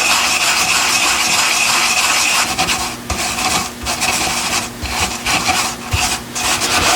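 Petrobond oil-bonded casting sand packed and rammed around a bronze sword guard pattern in a flask, a steady close gritty rubbing and scraping with uneven pulses of pressure throughout.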